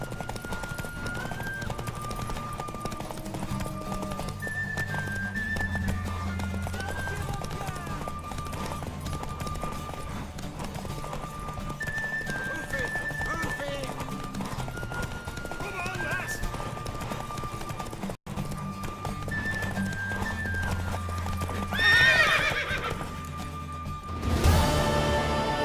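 Horse hooves clip-clopping at a gallop in The Witcher 3, with a neigh rising near the end, heard over game music and character dialogue.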